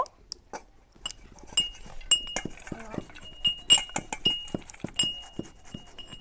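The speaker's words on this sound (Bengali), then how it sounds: "এবার ফুলকপিগুলো এই গ্রেটার দিয়ে গ্রেট করে নেব এই বড় দিক দিয়ে করব" Boiled cauliflower is grated on the coarse side of a metal box grater, giving a rapid series of close, sharp scraping and clinking strokes with faint background noise.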